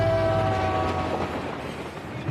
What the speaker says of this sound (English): the train, getting in and out of town, bringing in freight, bringing in groceries, bringing in fuel